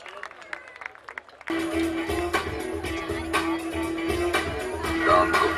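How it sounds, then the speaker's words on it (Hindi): An audience at a doctors' conference show with an orchestra breaks into applause after someone speaks, a broad wash of clapping with crowd noise that continues steadily under music. "जरा जोरदार तालियों के बीच हो जाए, आपके सामने पेश खिदमत है शंकर"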